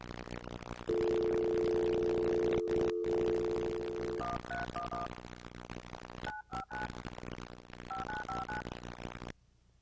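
Telephone DTMF dialing tones played from a caller ID phone script: a long steady tone, then several short bursts of paired beeps in quick sequences, clear and alone.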